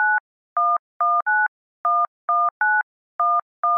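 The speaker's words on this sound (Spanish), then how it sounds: "Lo siguiente fue llamar por teléfono a la empresa de la luz" Touch-tone keypad beeps as a phone number is dialed to call the electricity company: nine short, loud dual-tone beeps in an uneven rhythm, separated by silence.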